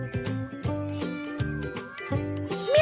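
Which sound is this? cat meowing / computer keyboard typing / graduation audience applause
cat meowing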